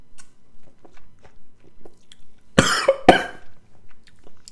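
Two sharp, close coughs in quick succession break an otherwise quiet stretch with faint chewing and mouth noises around them.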